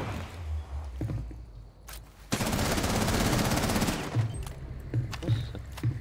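Rapid automatic gunfire erupts in a sustained burst in a video game, preceded and followed by scattered shots and game sound effects, with faint speech at times.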